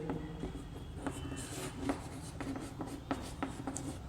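Chalk scratches and taps on a board during a class 11 maths lesson on the associative law, with steady rapid strokes, close and fairly quiet, and no talking.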